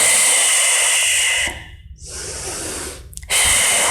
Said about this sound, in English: and then big inhale